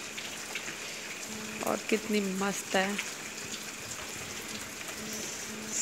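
The first rain of the monsoon season falls with a soft, steady patter, while a person talks briefly over it.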